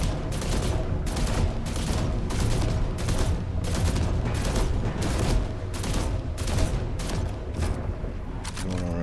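Rapid gunfire from a weapon test in the video game The Last Caretaker, loud sharp shots in quick bursts fired repeatedly and evenly across the whole stretch, with a short pause near the end.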